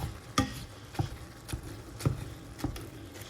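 Ground meat browning in a pan with added parsley, a quiet steady sizzle broken by about six sharp spoon scrapes and stirring knocks spaced roughly half a second apart.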